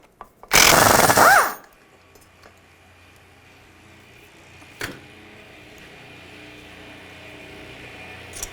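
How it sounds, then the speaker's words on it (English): A loud burst of rapid mechanical rattling, like an impact wrench spinning a bolt, lasts about a second, then quiet with one faint clunk, as 8mm bolts are removed during a CV joint rebuild on a 2010-2017 Chevrolet Equinox. "I'm going to take all these bolts out all around, use a 8mm socket."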